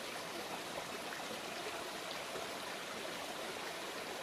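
A river stream rushes beside a waterfall along a rocky bank, making a continuous, even broadband roar of flowing water with no breaks or voices.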